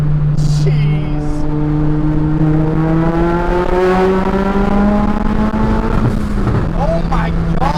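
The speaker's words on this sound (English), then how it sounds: "I don't know if you guys can hear the blow up and the turbo spool and flutter is all crazy on the new big turbo" A Ford Focus RS with a brand-new big turbo accelerates hard, its engine note climbing in a long, steady pull with turbo spool and flutter, loud and close from inside the car.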